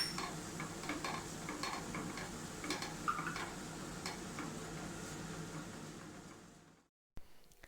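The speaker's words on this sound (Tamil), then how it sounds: "மசாலாவோட பச்சை வாசனை எல்லாம் போகிற வரைக்கும் கலந்து விட்டுட்டு" Chilli and coriander powder masala is stirred in a pan for okra stir-fry, a quiet sizzle threaded with light scraping and ticking stir strokes. It fades out near the end, followed by a brief clatter.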